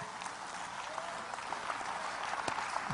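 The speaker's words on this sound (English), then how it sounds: "Go ahead and clap." A church congregation claps steadily throughout, dense and sustained applause filling the hall, with a faint voice or two underneath.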